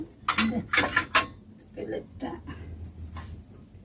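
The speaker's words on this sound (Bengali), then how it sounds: "এখানে আমি প্লেট রেখে দিলাম" A plate is set down with a few quick ceramic clinks and clatters near the start, followed by quieter handling, with someone talking throughout.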